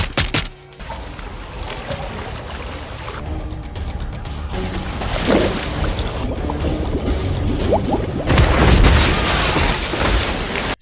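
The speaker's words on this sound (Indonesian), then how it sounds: "Setelah berhasil meledakkan penutup sumur, Six kemudian disambut oleh beberapa bawahan Hansen" An explosion blows open a well cover in an action film, with a loud booming blast near the end amid scattered bangs, clatter and rumbling effects throughout.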